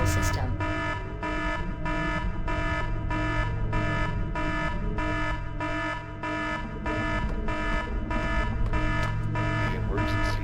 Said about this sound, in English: The emergency alarm is active.